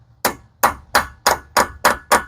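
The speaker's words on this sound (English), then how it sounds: "coming in with a good center punch and a hammer, you're just going to want to hit the center of the axle" A hammer strikes a center punch set on the middle of a Silverado 4x4 front CV axle in seven sharp, evenly spaced metallic blows. The hits are loud and close, with no talk.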